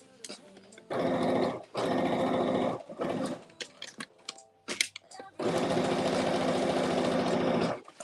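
A sewing machine stitches the inseam of a pair of jeans, running in loud sustained bursts of rapid stitching separated by short pauses, with a dog briefly growling and some talk in between.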